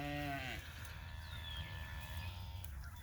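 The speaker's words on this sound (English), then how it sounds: "So these are the cows. There's the herd in behind." A farm animal gives one drawn-out, harmonic call at the start, from a herd of cows just brought home from a sale barn and penned behind a fence line. A low, steady outdoor rumble follows.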